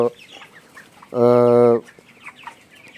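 A single drawn-out hen squawk rings out close by, surrounded by softer clucking and chirping from a nearby flock.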